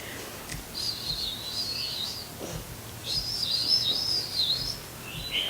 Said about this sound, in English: It's a wren.